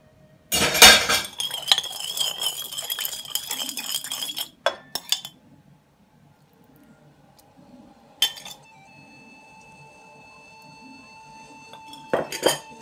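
Salad being tossed with sauce in a bowl, with loud clinking of utensils against dishes in short bursts, then quieter scraping and a few later clanks, close by with no talking.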